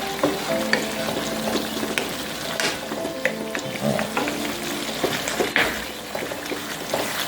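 Celery pieces go into a pot of hot and spicy Jamaican chicken curry, sizzling and frying steadily close by while being stirred, with scraping and small clinks breaking through the constant hiss.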